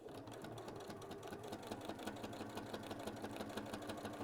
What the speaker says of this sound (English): So now I'm just going to do 2 lines of stitching, top stitching, just down.